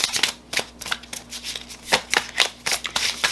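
Tarot cards shuffled by hand in rapid, uneven bursts of riffling and slapping, close and crisp with brief pauses between handfuls, and no voices.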